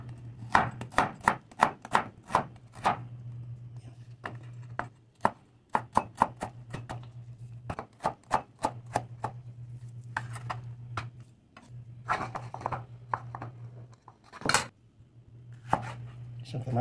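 An onion is sliced with a knife on a cutting board, crisp rhythmic chopping knocks arriving in quick bursts with short pauses, close and clear against a low steady hum.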